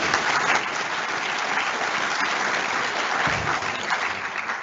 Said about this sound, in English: Please let us clap so that she...